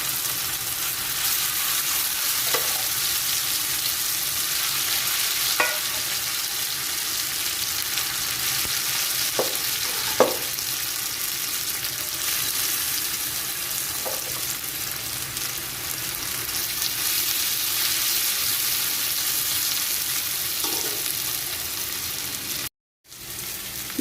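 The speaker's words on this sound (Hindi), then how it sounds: "और तकरीबन 3 से 4 पार्ट्स में ये आलू फ्राई होंगे।" Potato pieces fry in hot oil in batches, giving a steady, loud, close sizzle with a few sharp pops, broken by a brief dropout near the end.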